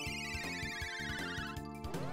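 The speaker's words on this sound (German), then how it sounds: "Immer wenn ich hier sitze, geht mein Handy." A mobile phone ringtone plays quietly, a repeating melodic electronic tune with a steady pulsing beat, faint and continuous without any voices over it.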